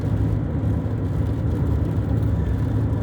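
Car engine and road rumble heard from inside a car, a steady low drone and whir that holds level throughout with no talking.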